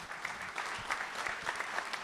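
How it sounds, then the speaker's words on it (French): A short burst of clapping from a conference audience, many hands applauding together at a moderate distance. "Applaudissements"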